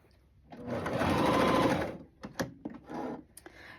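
A three-needle cover stitch machine stitches a jumpsuit top in a smooth burst of about a second, then a few short stop-start runs and clicks follow, close up and quiet.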